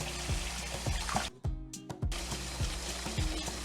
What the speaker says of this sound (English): I'm gonna wash this one.